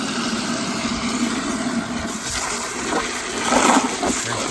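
Water gushes from a tankless water heater's flush valves into a bucket during a descaling rinse, a steady close rushing splash that swells slightly toward the end over a constant low hum.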